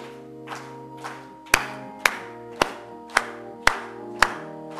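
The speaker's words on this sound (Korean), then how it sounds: "찬송 197장 손뼉 치면서 힘차게 한번 찬송하고" Congregation clapping in unison while singing a hymn at a Korean church service: a run of sharp, evenly spaced group claps, roughly two per second, over sustained organ or keyboard tones.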